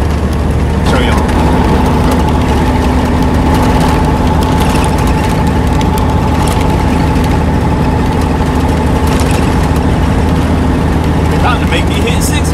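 End dump truck engine running steadily while driving, a loud, continuous low drone with a constant hum and vibration throughout, no clear gear changes, with a voice speaking over it.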